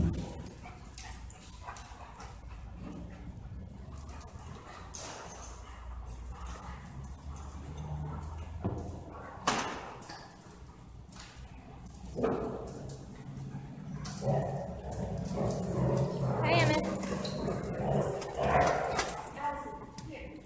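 Dogs at a doggy daycare bark, yip and whimper in scattered bursts over about twenty seconds, mixed with people talking nearby and some shuffling movement.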